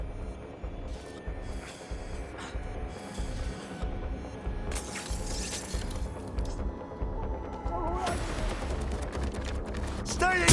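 Gunfire in Watch Dogs: Legion during a fight around a drug vehicle, scattered shots and shattering impacts over a dense, rumbling game soundscape, with bright crashing bursts partway through and toward the end.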